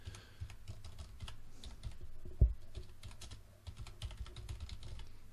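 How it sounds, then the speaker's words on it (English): Someone types an email subject line on a computer keyboard: a quiet, fairly rapid run of key clicks in uneven bursts, with one sharper tap partway through, and no talking. "You're going to type in your subject."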